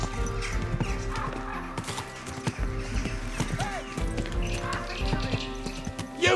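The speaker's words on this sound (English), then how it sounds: "Easy, good horse." A horse in Kingdom Come: Deliverance II clip-clops steadily, its hooves thudding over a game soundscape, with a whinny partway through and a voice speaking briefly over the steps.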